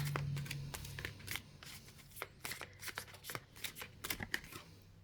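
Tarot cards being shuffled and drawn by hand, a quiet close series of quick riffling flicks and papery snaps in irregular bursts, with a faint low hum beneath.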